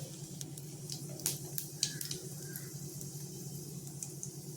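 Fennel seeds and curry leaves drop into hot cooking oil, giving a soft, steady sizzle with a few sharp crackles and pops near the start.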